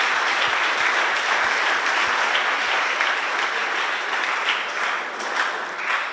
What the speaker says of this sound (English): let's just give her a round of applause as well